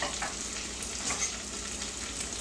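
Garlic cooking cream being whisked in a pan for a chicken-finger dipping sauce: a steady, dense sizzling hiss with soft, continuous whisk strokes, close by and with no one speaking.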